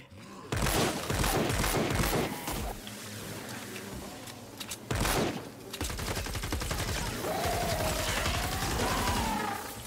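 Rapid automatic fire from the Siege Breaker gun in Fortnite: Save The World, long loud bursts of dense shots that pause briefly near the middle and resume, with game effects mixed underneath.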